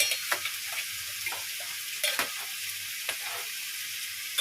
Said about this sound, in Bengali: চিকেন দিয়ে এরকম লাল লাল করে না ভাজলে ভালো লাগে না